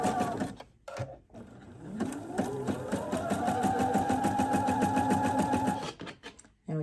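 Sewing machine zigzag top stitching panty elastic, a rapid even mechanical chatter of needle strokes that speeds up and runs steadily for several seconds between brief pauses, close and fairly loud.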